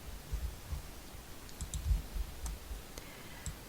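A computer mouse clicking quietly at close range in an office setting, a run of light, irregular taps and clicks with faint low thumps between them.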